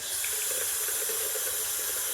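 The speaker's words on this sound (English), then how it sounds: "Ran the water here." Tap water running steadily into a sink drain that had backed up into a bathtub, a continuous close hiss and rush of flowing water with no voices.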